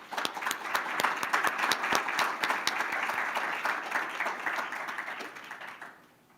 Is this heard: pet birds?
no